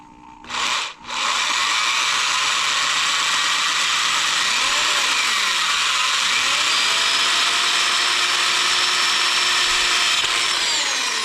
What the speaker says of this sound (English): We're going to drill the holes.